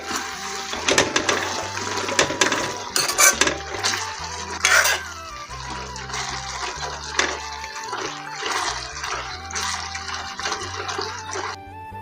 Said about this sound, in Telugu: ఇలాగన్నీ వేసుకొని మరొకసారి కలుపుకోవాలి.